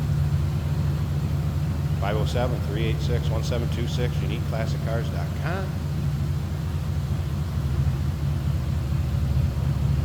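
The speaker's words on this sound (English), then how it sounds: "We're going to take this down the road, kind of get an idea of what it's like to ride along in this car" A 1951 Ford Custom two-door sedan street rod rumbles steadily as it cruises down the road, a low droning engine and road noise running throughout while someone talks over it.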